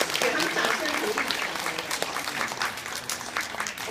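Applause fills a church community Christmas party, with a crowd clapping steadily and evenly throughout, and a voice heard over it.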